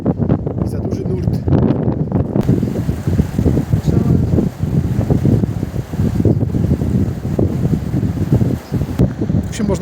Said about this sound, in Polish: jest za duży wiatr i za duży nurt